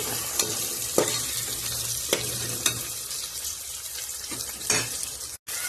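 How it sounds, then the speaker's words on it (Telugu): Beans and other vegetables fry in a pressure cooker for vegetable biryani, an even hiss of sizzling with a few sharp scrapes and clinks of a spoon stirring close by. "ఇవి కొంచెం ఫ్రై అవుతున్నాయి కదా"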